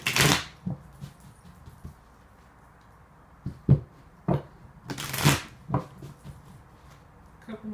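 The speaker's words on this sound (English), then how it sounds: "Couple more shuffles." Tarot cards are shuffled in a few quick riffling bursts, with softer taps and card handling in between, close and clear.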